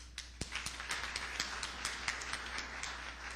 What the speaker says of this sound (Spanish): recibamos con un cordial aplauso